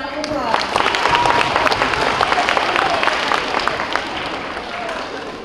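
Audience applause fills an awards ceremony, a dense, steady wash of many hands clapping at close range for several seconds, with voices and a few cheers mixed in beneath.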